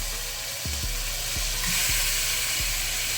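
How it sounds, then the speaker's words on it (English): Meat for birria tacos sears in hot oil with a loud, steady sizzle and hiss, broken by a few low thumps as pieces are moved in the pan, close up, with no talking. "What you want to be able to sear your meat."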